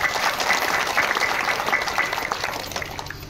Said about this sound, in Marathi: सर्वांनी पुढे टाळी वाजवा मोठीने